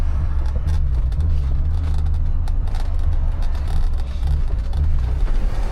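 Engine of a BMW car struggling and losing power while driving, a loud continuous low rumble with uneven surging, close by.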